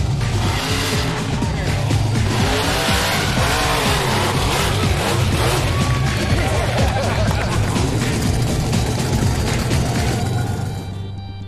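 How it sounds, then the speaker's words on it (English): Bigfoot monster truck, driven by Dave Harkey, roaring over parked cars and launching off jumps: a loud, continuous deep engine drone with revving surges and crowd noise throughout, fading slightly at the end. "Top driver Dave Harkey takes Bigfoot over the cars and really lets it rip on the jumps."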